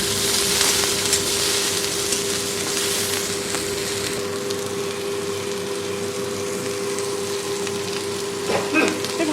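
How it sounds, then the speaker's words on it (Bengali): Eggplant, pumpkin and potato frying together with salt and turmeric in a Bengali home kitchen, giving a steady, close sizzle with light crackle that runs unbroken throughout, with a faint constant hum beneath. "সব একসঙ্গে আমি ভেজে নেব"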